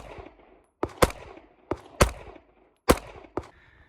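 Outdoor pistol shots from an OA Defense Compact Pro fired at a range, five sharp, loud reports in irregular pairs with brief echoing tails and quiet gaps between.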